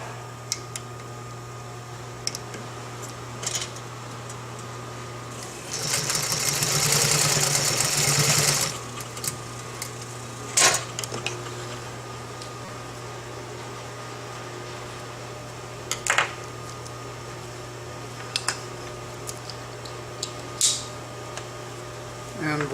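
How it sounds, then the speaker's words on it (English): A sewing machine stitches a strap for a quick release martingale collar, giving one short steady buzzing run of about three seconds amid soft clicks and handling noise in a quiet room. "Then lay your sewing machine foot down and go ahead and seal it up."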